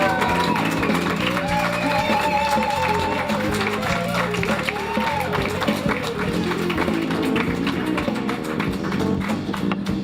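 A live studio audience applauds and cheers to welcome guitarist John McLaughlin, a sustained dense clatter of clapping with whoops and shouts mixed in, steady and fairly loud throughout.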